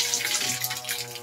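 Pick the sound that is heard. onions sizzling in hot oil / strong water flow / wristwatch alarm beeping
strong water flow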